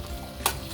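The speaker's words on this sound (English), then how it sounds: "Just throw it in the pot and go and stir it same time." A spoon stirs cooked chickpeas with liquid in a cooking pot, giving a short, close scrape with one brighter clack in the middle, quiet and on its own.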